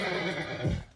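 Racehorse at a horse race letting out one loud, close whinny that wavers and then drops into a deep snort before fading within a second.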